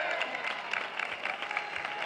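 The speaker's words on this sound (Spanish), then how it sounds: "le vamos a dar un fuerte aplauso a nuestro gran amigo Miguel Mellao" Audience at a Carnaval de Cádiz performance in Gines claps in a fairly quiet, brief burst, with scattered individual claps audible in the mix.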